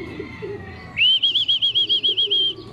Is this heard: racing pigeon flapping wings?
yes